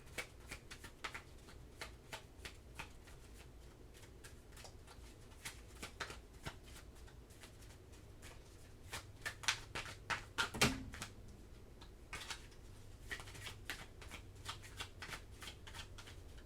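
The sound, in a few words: shuffling tarot cards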